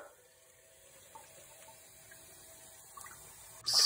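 Water running into a drinking bottle from a tap, a faint steady flow that continues throughout and ends with a sharper louder burst at the close.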